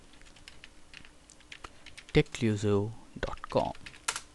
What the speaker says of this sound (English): Now just I'm going to type